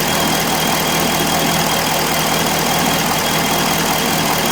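A 2005 Corvette engine idles after a lean-condition (P0171/P0174) fix, with a constant, loud, dense mechanical drone that holds steady throughout, with no voices.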